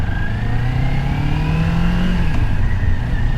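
A Kawasaki Ninja 400 motorcycle pulls away in city traffic, its engine climbing steadily in pitch as it accelerates, loud and close throughout with no talk.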